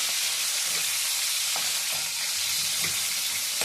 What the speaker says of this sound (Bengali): একটু আলু ভাজা হবার পরে